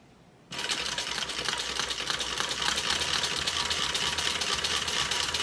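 A sewing machine runs a steady reinforcement stitch along a fabric bag, starting abruptly after a brief quiet moment and then whirring continuously and close up with a fast rapid needle chatter.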